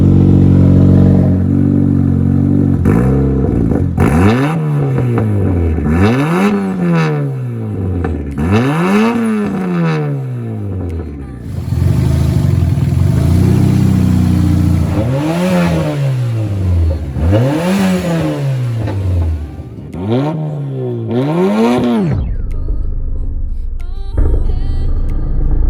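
A turbocharged Mazda Miata fitted with a custom-built exhaust revs repeatedly from idle, giving several loud rising-and-falling blips in a steady rhythm, with no talk over the engine.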